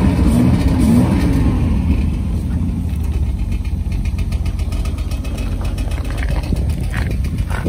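A 1967 Austin Healey 3000 MK3 BJ8 engine runs at a steady idle with a stainless steel exhaust, a loud, close, even rumble with slight uneven pulsing and no talking.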